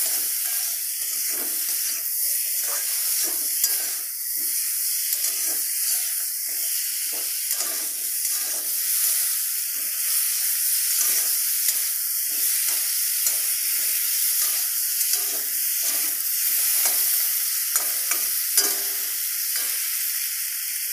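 Potatoes sauté for an eggplant, potato and fish curry, a constant hissing sizzle broken by frequent scraping, clattering stir strokes from a spatula against the pan.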